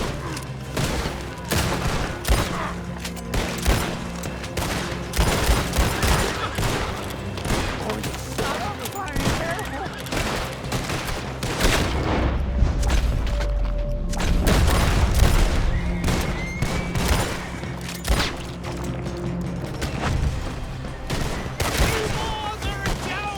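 Loud, dense gunfire from Red Dead Redemption 2 on PC, with overlapping rifle and pistol shots and heavy booming blasts in a sustained firefight, voices shouting amid the shooting.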